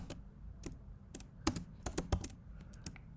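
HTML code being typed on a computer keyboard, with irregular bursts of light, crisp key clicks up close, some keystrokes landing harder than others, and no speech.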